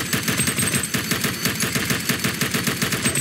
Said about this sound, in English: Just shoot open the case.